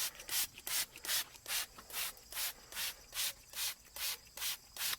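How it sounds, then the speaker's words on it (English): A spray bottle of apple cider vinegar and water pumped over and over onto a pork butt on an offset smoker, about a dozen short hissing sprays in a steady rhythm, close by and fairly quiet. "So let's spray her down."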